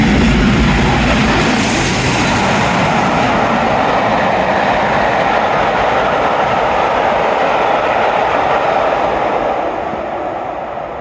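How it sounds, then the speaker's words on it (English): A fast non-stopping train roars past a station platform in Teignmouth at close range, a loud continuous rush with rhythmic rattling of wagons that fades slightly toward the end. "The fast train now approaching platform 1 does not stop here."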